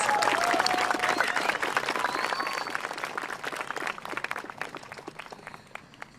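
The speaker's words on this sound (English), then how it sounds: "Let's give another round of applause." Audience applause at a high school graduation ceremony, a dense wash of clapping that starts full and slowly thins and fades over several seconds.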